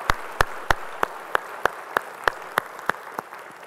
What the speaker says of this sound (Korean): 우리 찬양받으신 주님께 영광의 박수 올리겠습니다